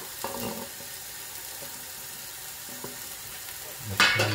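Grated tomatoes frying with spices in a pan for a Kathiyawadi bottle gourd oro, giving a steady soft sizzle with a few spoon-stirring scrapes and a louder burst of sizzling near the end.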